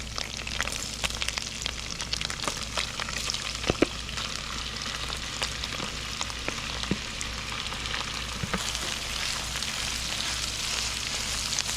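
Chorizo and meat frying in a pan for tacos, a steady close sizzle with crackling pops throughout and no talking.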